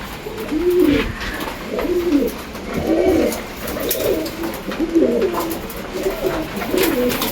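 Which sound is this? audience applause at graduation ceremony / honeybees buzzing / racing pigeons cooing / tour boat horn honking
racing pigeons cooing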